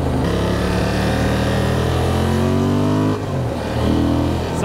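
A Honda Transalp 750 motorcycle engine revs up through rising pitch, drops briefly as it shifts, then climbs again, loud and close.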